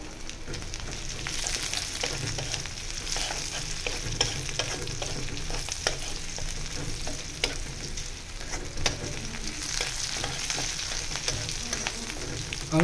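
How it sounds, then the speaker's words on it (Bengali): Onion and garlic fry in mustard oil in a pan, a continuous close sizzle with crackling pops and occasional stirring scrapes, steady throughout. "সরিষার তেলের মধ্যে পেঁয়াজ রসুন ভাজতেছি, কারণ ভেন্ডি ভাজি করবো আজকে।"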